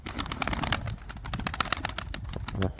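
Young pigeons at a coop give soft coos and fluttery calls close by, mixed with scratchy rustling and a brief burst near the end, fairly quiet with no clear speech.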